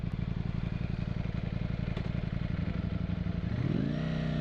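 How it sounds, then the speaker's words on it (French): A 2020 Ducati Streetfighter V4 motorcycle engine idles with a steady low, rapid putter, close by, then its pitch rises briefly near the end as it revs slightly. "Vous avez peut-être pu entendre le petit ronronnement de moteur supplémentaire qui arrive."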